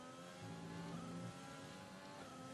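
A Mercedes-engined Formula 1 car in the F1 2020 racing game at the Bahrain Grand Prix accelerates with a steady, high-pitched engine whine that climbs in pitch, heard faintly and alone.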